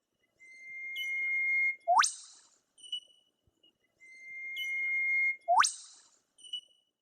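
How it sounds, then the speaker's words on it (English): An eastern whipbird, an Australian native, calls twice: each a long pure whistle followed by a sharp rising whip-crack and a short answering note, clear and close with quiet gaps between. "The eastern whipbird is native to Australia."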